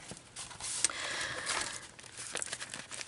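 Someone cuts 280gsm card for an Edith Holden notebook, making close, continuous crinkly rustling and scraping with a few louder snaps and no talking.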